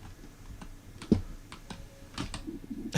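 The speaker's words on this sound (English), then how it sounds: "Aggressive keyboard noises." Fast, aggressive typing on a computer keyboard: rapid uneven clacks and hard key strikes, one sharp loud hit early on, close and alone with no talking.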